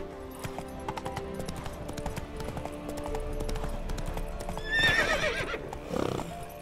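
A horse's hooves clip-clop in a steady rhythmic gait, with a loud, shrill neigh breaking in partway through and a brief snort or low vocal sound near the end.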